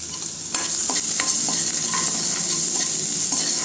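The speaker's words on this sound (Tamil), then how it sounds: "வெங்காயத்தை போட்டுட்டு நல்லா வதக்குங்க" Onions sizzle and fry in a hot pan with a constant hiss, punctuated by a few soft stirring scrapes and clicks.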